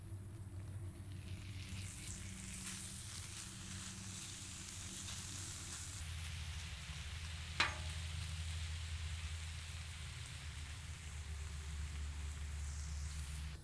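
Chopped thick cut bacon sizzles steadily on a hot griddle, a soft, continuous frying hiss with a low background hum and one brief sharp tick partway through, no voices.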